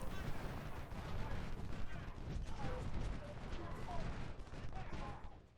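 Rifle volleys in a Civil War battle game at Iuka: steady crackling musketry layered into a dense, fairly distant fusillade with sharper individual shots popping through throughout.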